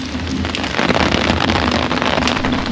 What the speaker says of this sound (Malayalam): ആർട്ടിഫിഷ്യലായിട്ട് മഴ സ്റ്റാർട്ട് ചെയ്യും